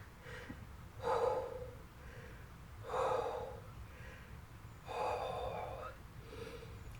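A person with a cramp breathes heavily, giving three loud, drawn-out breaths with a strained, gasping, snorting edge, spaced about two seconds apart, close to the microphone with no talk.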